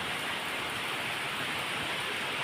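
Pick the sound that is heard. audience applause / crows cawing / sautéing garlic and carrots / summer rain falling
summer rain falling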